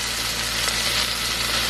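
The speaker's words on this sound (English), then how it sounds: "I'm just sauteing it on each side" A coffee-rubbed roast searing in a hot pan, a steady loud broadband sizzle with a low hum underneath, close and continuous with no talk.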